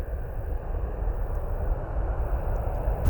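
Airplane taking off at Manchester Airport, a loud, steady engine roar from close range that holds throughout without a break.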